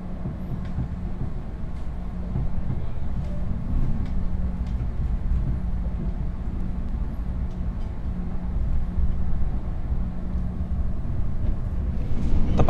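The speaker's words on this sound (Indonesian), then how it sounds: "Sekarang ini kereta api Gajayana sudah diberangkatkan dari stasiun Malang" Gajayana passenger train pulling out of Malang station, a steady low rumble of wheels and carriages rolling on the rails that stays loud throughout and swells slightly toward the end.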